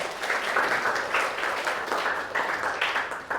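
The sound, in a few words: class applause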